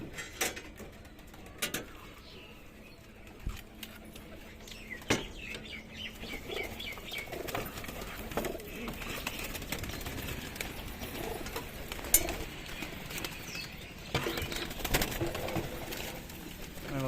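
Chini Kaldam pigeons in a cage, soft scattered cooing and occasional wing flaps with light chirps, faint and irregular against a quiet background.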